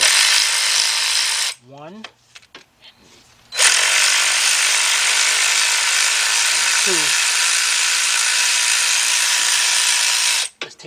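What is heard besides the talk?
ratchet with 10 mm socket removing bolts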